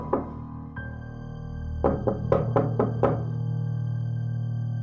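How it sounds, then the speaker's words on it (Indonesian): Knocks on a school staffroom door: six sharp raps in an uneven cluster, loud and close over a steady background hum, with a single softer thud a moment before them. "Bunyi ketukan pintu itu membuat Miss Margaret terlonjak kaget."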